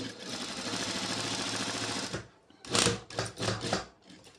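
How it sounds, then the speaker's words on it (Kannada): A sewing machine stitches the front of a top cut from a saree's pallu piece, a fast steady mechanical whir for about two seconds, then short separate bursts of stitching, close and fairly quiet. "ಫ್ರಂಟ್ ಹೊಲಿತಾ ಇದ್ದೀನಿ ಫ್ರೆಂಡ್ಸ್"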